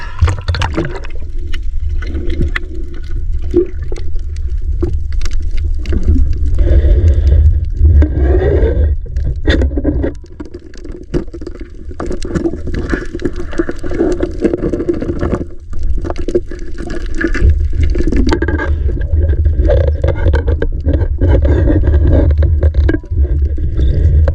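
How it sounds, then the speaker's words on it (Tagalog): Strong sea waves surge and wash continuously at close range, making a loud, broad churning rush that swells and eases. No voices are heard. "lakas yung alon"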